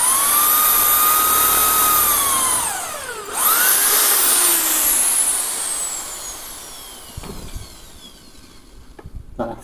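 A power drill whines loudly during veranda assembly, its pitch falling and rising as it bores, then slowing and fading into quieter knocks and handling sounds near the end.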